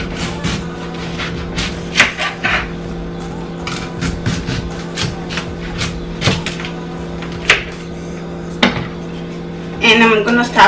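A knife slices a yam into rounds on a cutting board, giving a steady series of close, crisp knocks against the board, with kitchen clatter near the end.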